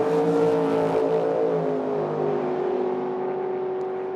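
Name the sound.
drag race with a dragster and a roadster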